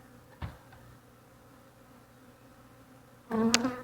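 Honeybees buzz around frames being set into a new hive from a nucleus colony. A faint, brief buzz is followed by a loud, close buzzing burst near the end.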